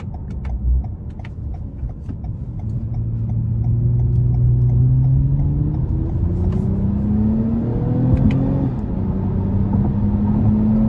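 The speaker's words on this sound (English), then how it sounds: "I'm gonna put it into sport mode one more time just to accelerate on the interstate." A 2021 Toyota Camry TRD with a 3.5 V6 accelerates hard in sport mode onto an interstate. The engine note climbs steadily in pitch over a loud, constant road rumble inside the cabin.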